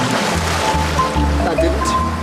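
Ocean waves break and wash close by during a wave-power electricity experiment, with a loud, rhythmic rush and low surging pulses.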